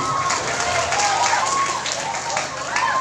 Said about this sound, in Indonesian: kita berikan aplaus, tepuk tangan bagi anak-anak kita